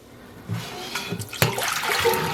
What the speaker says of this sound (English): I don't know if you can tell how cloudy that rinse water is